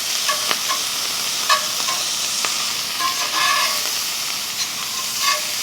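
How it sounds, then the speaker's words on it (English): Steak bites sear in a pan in a hotel room kitchen, producing a loud, dense, continuous sizzle with scattered crackles and pops and occasional scraping of a utensil, close up and uninterrupted by talk. "So really all we're wanting is just to sear this meat."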